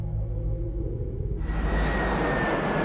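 A jet aircraft in the strategy game Sid Meier's Alpha Centauri gives a low engine rumble that swells abruptly into a louder, brighter roar partway through, with no voices over it.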